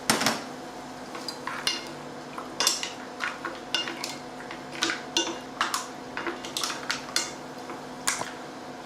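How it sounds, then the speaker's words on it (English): Tomato added to a pan of par-cooked prawns and seafood, with clattering utensil and pan knocks in an uneven series of sharp hits over a soft sizzle, close by and without talking. "We'll now add the tomato in there like that."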